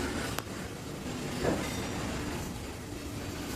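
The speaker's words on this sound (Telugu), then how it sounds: "ట్రైన్ వెళ్తుంది" A train rumbles past steadily with a rhythmic rolling clatter, moderately distant and fairly quiet, with no voices.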